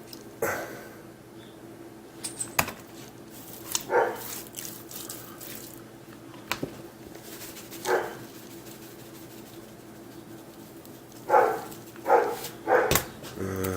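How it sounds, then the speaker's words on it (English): A dog barks a handful of times at a distance, scattered sharp yelps over running water and faint background noise. "There's the dog barking."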